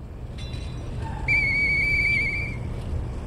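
A police whistle in the video game Lies of P, blown as one sustained shrill tone that rises and holds for about a second, over a steady low background rumble.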